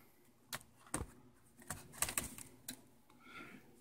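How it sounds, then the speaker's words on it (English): A plastic pry tool works around the upper edge of a Sony Vaio SVE17 laptop case, releasing the clips one by one: a handful of sharp, separate clicks and snaps spread irregularly over a few seconds, close and fairly quiet, with no talking. "take a plastic pry tool along the upper edge and go all the way around until they all click"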